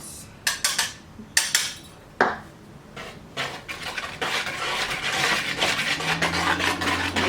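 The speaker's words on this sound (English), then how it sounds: "So mix together the dry ingredients." Dry ingredients for vegan gluten-free pumpkin muffins being mixed in a bowl: a few sharp taps at first, then steady, close scraping and rubbing strokes with faint background noise, with no one talking.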